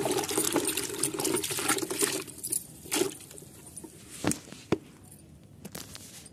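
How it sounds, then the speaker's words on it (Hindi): Water poured in small splashes and trickles while washing freshly dug turmeric roots, close by, with intermittent pours and drips, a busier run at first and then scattered splashes, without speech. "हल्दी को साफ कर लेती हूँ, थोड़ा थोड़ा पानी डाल के धोऊंगी।"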